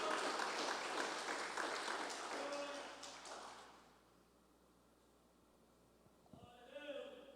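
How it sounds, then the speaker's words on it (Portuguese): A church congregation gives applause during a sermon, a few seconds of steady clapping that tapers off into near silence, followed by faint taps and a voice starting up. "Vamos aplaudir o Senhor?"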